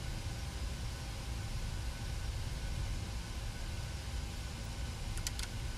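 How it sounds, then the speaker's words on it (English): Boeing 737-700 engines in the FSX flight simulator give a steady, even broadband roar that holds at constant loudness throughout, with a couple of faint clicks near the end and no talking. "Get everything turned down so you can actually hear the engines."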